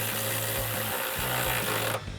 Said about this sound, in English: we can come back and tighten this down with a 16mm socket